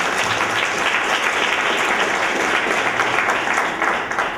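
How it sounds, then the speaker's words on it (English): An audience welcoming a young nonprofit founder to the stage gives steady, full applause that holds at an even loudness from start to finish. "Let's give her a big round of applause"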